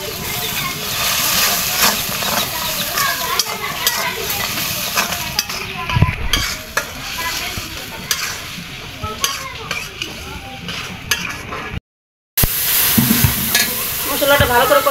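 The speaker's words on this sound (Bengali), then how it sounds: "মশলাটা ভালো করে কষানো হয়ে গেছে" Spice paste of ginger-garlic, cumin, turmeric, chili and coriander with bay leaf, cinnamon and garam masala sizzles and is stirred steadily in a pan for a country chicken and papaya curry, close and continuous with repeated spoon scrapes.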